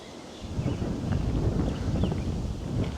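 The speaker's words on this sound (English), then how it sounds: "Getting a little windy." Wind blows steadily across the microphone outdoors along a walk on a dead-end road, a low continuous rumbling buffet with no voices.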